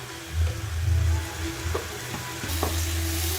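Ghee sizzling in a pan of melted coconut filling for kozhukattai, a steady close frying hiss with low bubbling and a couple of stirring clicks, growing brighter toward the end.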